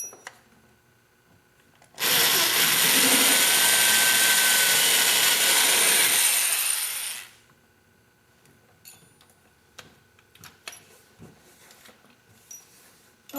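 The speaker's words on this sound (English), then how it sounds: "to drill the center hole to a little bit larger size" A power drill bores a larger center hole for an Allen wrench to pass through, a steady loud whine lasting about five seconds and then stopping abruptly, followed by faint handling clicks and taps.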